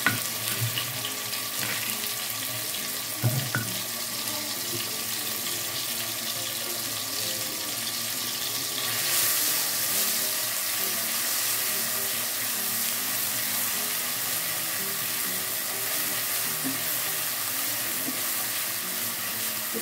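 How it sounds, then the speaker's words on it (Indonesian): Ground spice paste sizzling in hot cooking oil for Indonesian sweet soy braised eggs, a steady, moderately quiet frying hiss running throughout with faint stirring. "kita panaskan sedikit minyak goreng dan kita tumis bumbu halusnya"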